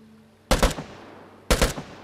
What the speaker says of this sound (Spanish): Con el disparo por ráfaga este.